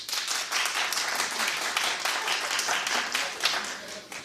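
A studio audience claps together for several seconds, a dense burst of hand claps that rises, holds steady and then thins out, with a voice faintly audible underneath.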